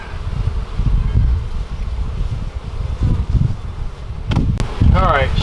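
Bees buzz around an opened hive in a yucca tree, a low, wavering drone close to the microphone mixed with rustling and handling noise, plus a couple of sharp clicks and a brief higher whine near the end.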